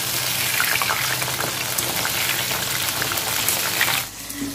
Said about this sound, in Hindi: तो मैं तभी मैं सोया चंक्स को फ्राई कर रही हूँ।